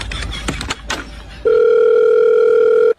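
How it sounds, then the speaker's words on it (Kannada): Once a phone call is cut, a loud, steady telephone tone sounds alone for about a second and a half, following a few seconds of muffled handling noise. "ನನ್ ಫೋನ್ ಕಟ್ ಮಾಡ್ತಾನಲ್ಲ"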